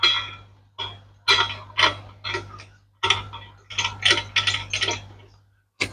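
A CO2 regulator is screwed onto a fire extinguisher cylinder, producing a series of close, irregular metallic clicks and scrapes over a faint steady hum, with short pauses between turns.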